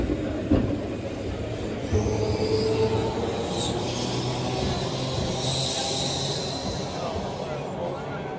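A restored old tram runs at the Crich tramway museum in Derbyshire, a steady rumbling roll with occasional squeals and clanks, heard amid crowd chatter and people talking nearby.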